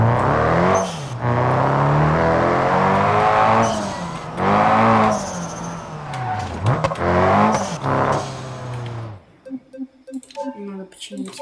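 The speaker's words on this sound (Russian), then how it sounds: "Сложно водить этой машиной." A car drives and skids in the BeamNG.drive video game on an Italian route, its engine revving up and down with squealing tyres for about nine seconds before cutting out, followed by quieter clicks and a voice speaking.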